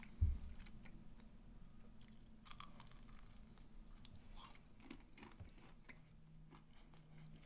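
Faint crunchy chewing of garlic-marinated turkey tenderloin, baked and then air-fried, with a crisp outer skin: soft irregular bites and crackles, close to the mic, in a quiet room with no talking.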